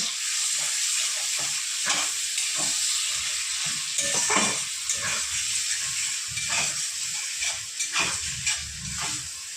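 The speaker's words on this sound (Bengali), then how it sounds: "এবার আমি দিয়ে দেবো আদা রসুন বাটাটা তারপর দিয়ে দেবো টমেটো কুচি দিয়ে ভালো করে নেড়ে চেড়ে নেব" Ginger-garlic paste and chopped tomato fry in a pan with a continuous loud sizzle and hiss, broken by repeated scraping bursts as a spoon stirs the mixture for a spicy fish curry. No one speaks.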